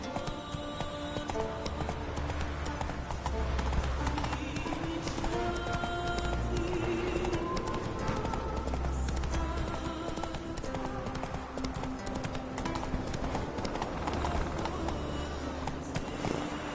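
Roach the horse gallops in The Witcher video game, a steady rhythmic clip-clop of hooves running continuously at close range with a faint voice now and then.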